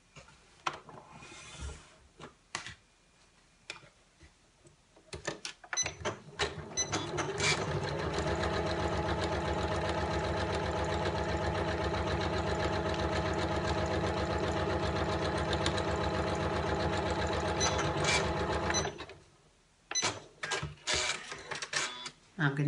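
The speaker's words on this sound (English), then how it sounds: "I'm going to sew a 1/4 inch seam here" A sewing machine stitches a quarter-inch seam on fabric for a small tissue pocket holder, running steadily and loud for about twelve seconds after some handling noise, then stopping.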